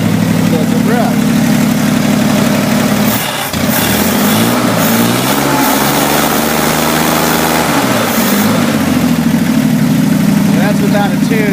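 A 1965 Chevrolet Corvair Monza's 95HP engine idles on old spark plugs, unrebuilt carburetors and a slightly burned distributor cap, giving a loud, close, steady rumble that dips briefly once before settling back.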